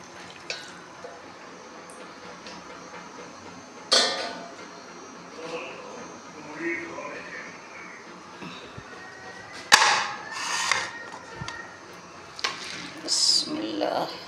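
Water poured into a cooking pot while making saag, heard as intermittent splashing and trickling nearby, with a few sharp knocks and a voice speaking quietly in between.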